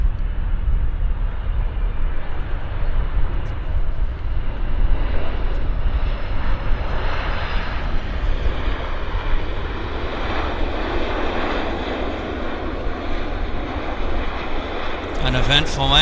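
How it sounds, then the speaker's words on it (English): A Japan Airlines Boeing 767-300 inbound from Narita lands at Vancouver airport with a loud, continuous jet engine roar that slowly shifts in pitch, followed by a brief rattle near the end. "An eventful landing for Japan Airlines inbound from Narita. 767-300 action here at YVR."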